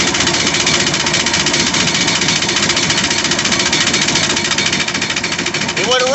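A jet ski engine is cranked nonstop as it tries to start, a loud close rapid chattering rhythm with a steady mechanical buzz and no catch into running.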